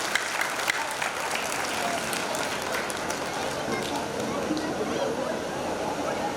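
Continuous audience applause at an Agrasen Jayanti quiz event, a dense wash of clapping from a large crowd, moderately distant and steady with faint murmuring underneath.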